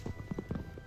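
Hooves clip-clop quickly in Minecraft, a faint run of soft rhythmic thuds lasting under a second.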